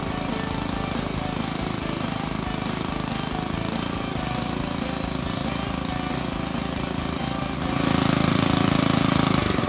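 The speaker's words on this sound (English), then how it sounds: "Here the engine is slowed down to idle to set the pitless" The engine of a PumpTrax well pump puller runs steadily at idle while a pitless adapter is set. The dense, continuous mechanical drone is close and grows slightly louder near the end.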